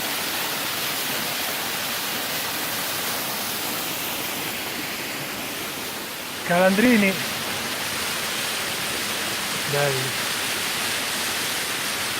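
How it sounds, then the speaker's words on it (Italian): A steady, loud roar of a waterfall near Badia Prataglia, Italy, fills the scene, with someone speaking briefly twice over it. "bella cascata"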